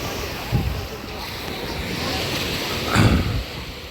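Sea waves roll onto the beach at Devgad at high tide during a New Year's Eve celebration, a steady roar with heavy wind buffeting the microphone and two louder surges, one early and one near the end.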